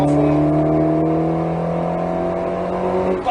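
An Alpine A110S with 292 hp at full throttle on the Nogaro racing circuit, heard from inside as a loud, steady engine drone with strong tonal harmonics, holding constant before dropping off sharply at the very end.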